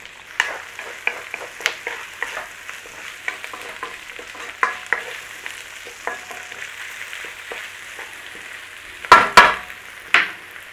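Onions and garlic frying in oil and butter in a pan, a steady close sizzle broken by repeated clicking stirs and a few sharper scrapes near the end.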